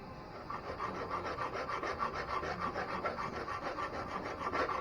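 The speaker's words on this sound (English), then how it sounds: "take the file and kind of just sharpen up those tips. So just moving it back and forth" A hand file rasps back and forth over the metal tips of a BMW E46 control arm being fitted to an E36, a steady, close scraping rhythm with no talking.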